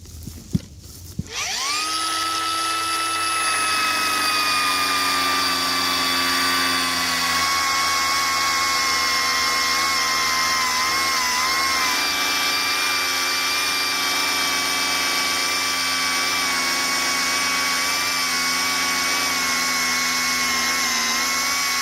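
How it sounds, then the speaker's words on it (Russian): A cordless angle grinder cutting a very thick, heavy pipe whines loudly and continuously after a brief start, grinding steadily with slight pitch dips as it bogs down under load. "Она очень толстая и очень сложно пилит болгарка. Она тонет в ней, глохнет."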